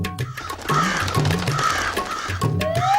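Cartoon crows caw from a rooftop ledge in an animated story, giving several repeated calls in fairly quick succession over a steady music bed.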